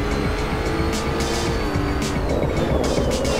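A Lotus Evora GT3 race car engine drones under load at Imola in Assetto Corsa, a loud, continuous high-revving tone with a gear change partway through and faint tire noise.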